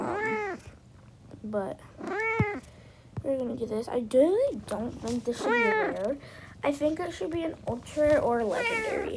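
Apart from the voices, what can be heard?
domestic cat meowing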